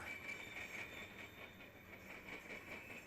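A nine-unit freight train moving dead locomotives rolls past at a distance as a faint, steady rumble with a thin high squeal from the wheels, and nobody talks.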